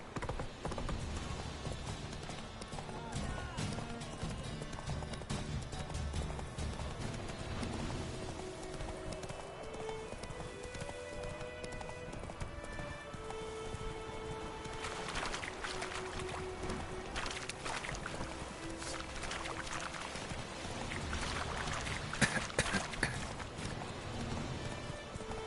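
Roach the horse galloping in The Witcher 3, a steady rapid clip-clop of hooves running throughout, with music and ambient game sound layered over it.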